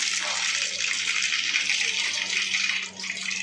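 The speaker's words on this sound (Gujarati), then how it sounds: "જીરું નાખી દઈશું।" Mustard and cumin seeds hit hot oil in a pot for a dal tempering, giving a loud, steady hissing sizzle that runs close and continuous throughout.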